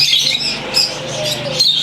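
Zebra finches in a bird shop give bright, rapid chirps and tweets, loud and close, in short bursts over a low background hum.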